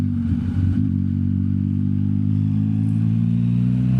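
A Yamaha MT-09 motorcycle on the move gives a loud, steady engine drone with a slight rise in revs at the start, holding an even tone throughout with no voices.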